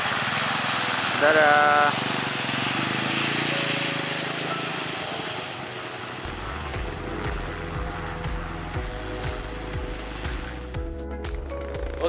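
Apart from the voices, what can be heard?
propeller airplane taking off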